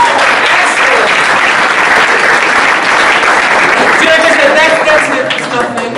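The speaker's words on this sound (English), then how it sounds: "Again, give a round of applause!" Loud audience applause after a rap performance, with dense clapping across the whole stretch and crowd voices and cheering mixed in.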